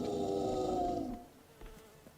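A fly buzzes steadily in Fable 3 for about a second, close and fairly loud, then cuts out, leaving faint game sounds.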